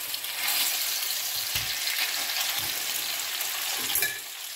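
Beef searing in a very hot pan, a dense steady hiss of sizzling fat with a few soft scraping thumps of the meat being moved, close and continuous with no talking.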